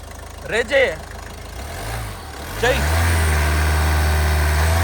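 A petrol vehicle engine cranks over and catches, then settles into a loud, steady idle that continues to the end, close by, after a couple of brief voice bursts at the start.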